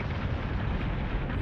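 Weapons firing in Battlestar Galactica Deadlock, a dense, continuous rumbling barrage like heavy cannon fire, loud and unbroken for the whole short stretch.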